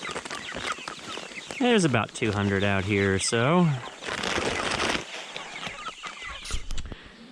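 A flock of around two hundred chickens on a farm clucks and squawks close by, with a few loud drawn-out calls rising over the busy chatter while someone talks.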